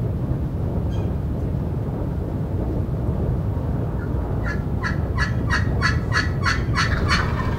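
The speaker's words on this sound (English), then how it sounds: "one gobbling Jake" A wild turkey jake gobbles in a rapid series of rattling calls, moderately distant, over steady wind noise in Texas; earlier the scene is mostly quiet breeze.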